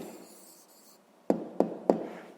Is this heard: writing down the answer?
yes